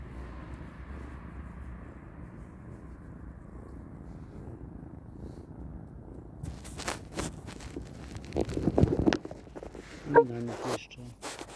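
A cat's soft, low purr rumbles steadily for several seconds, then rustling and handling noises take over as someone moves close by.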